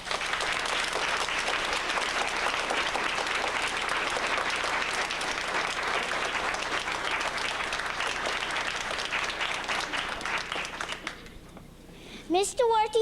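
An audience at a children's play claps for the set builders, a sustained wash of many hands lasting over ten seconds before fading, then a sudden rising voice or tone breaks in at the close.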